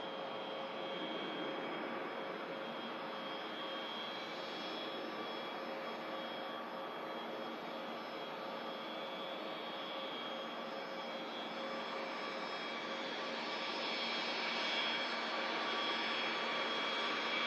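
A jet aircraft at Manchester Airport in winter roars steadily as it banks left, a sustained broadband engine rush with a high whine, fairly distant and even in level, swelling slightly toward the end.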